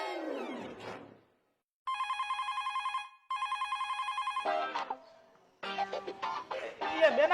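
A telephone rings unanswered in a bustling household comedy scene, giving two long bursts of rapid electronic trilling, with other tones and sounds before and after.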